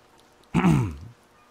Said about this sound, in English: clearing his throat loudly